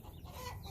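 Backyard chickens scratching around in a garden bed, with soft clucking and rustling close by, steady and quiet with no talk.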